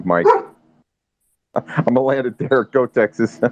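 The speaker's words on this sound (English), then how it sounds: "Sorry about my dog." A dog barks in short sharp bursts near the start, then someone talks over the rest of the clip.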